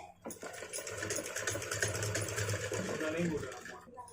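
A sewing machine stitches a joined blouse neck strip in a fast, close, steady run of rapid mechanical ticking lasting a few seconds before stopping.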